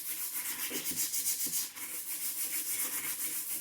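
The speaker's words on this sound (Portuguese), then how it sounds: "vou pegar minha lixinha, que eu já falei pra vocês, o número que eu utilizo, e vou dar uma leve lixadinha" Sandpaper lightly rubbing over an MDF box, a steady soft scratchy rasp with faint rhythmic strokes, close and continuous throughout with no talking.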